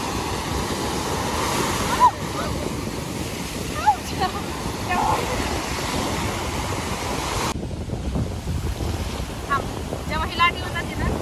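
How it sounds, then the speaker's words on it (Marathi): Sea waves at Chennai beach surge and wash in continuously, with heavy wind buffeting the microphone and people's voices in the background. "जेव्हा ही लाट येऊन जाते ना"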